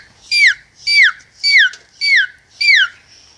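Five short, evenly spaced, high whistled peeps, each sliding downward, mimic a baby chick's cheeping, delivered by a person close by in an otherwise quiet setting.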